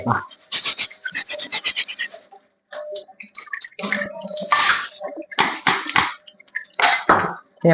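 Bursts of splashing water from a kitchen tap come in uneven spurts with brief pauses as things are washed, close up and fairly loud.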